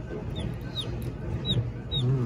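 Several young chicks on a kitchen table peep in short, high, rising chirps, four or five scattered calls over a low domestic background with faint murmuring.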